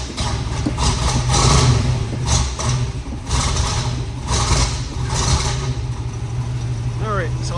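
The 327 V8 of a restored 1968 Chevrolet Camaro convertible with a Powerglide automatic, just started and cold, idles with a low rumble and swells in a few brief revs, with someone talking over it.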